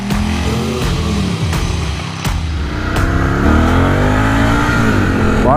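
A 2018 Ducati Scrambler 1100 motorcycle engine revs loud and close. The throaty rumble rises and falls in pitch through several throttle blips before climbing at the end, with no talking.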